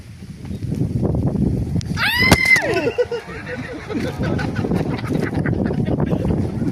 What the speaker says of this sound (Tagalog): Ay, may manok.